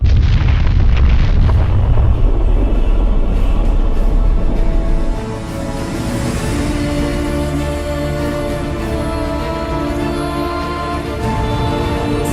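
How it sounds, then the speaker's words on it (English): A loud explosion from a Doctor Who audio drama opens with a heavy, booming blast, then settles into a sustained low rumble that continues to the end. "Damos explodes."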